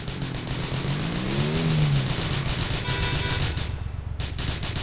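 A motorcycle engine in GTA 4 multiplayer drones loudly and revs upward, rising and settling under steady background noise, with sharp game effects near the end.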